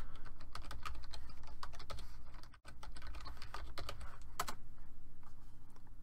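A PC password typed on a computer keyboard: a steady stream of quick, soft key clicks with a brief pause near the middle, close and fairly quiet, with no talking.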